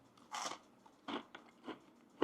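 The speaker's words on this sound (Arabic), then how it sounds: "قرمشة حلوة" Someone bites into crunchy breaded spicy Chicatita chicken strips, producing a few close, quiet crunches spaced apart, followed by softer chewing clicks.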